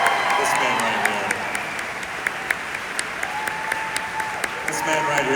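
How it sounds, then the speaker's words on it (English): Audience applause rolls through a D23 convention panel for actor Patrick Warburton and producer Don Hahn, sustained clapping with cheers and whoops as an announcer talks over it. "let's have one last round of applause for Mr. Patrick Warburton."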